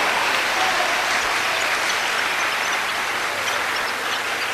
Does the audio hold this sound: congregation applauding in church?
yes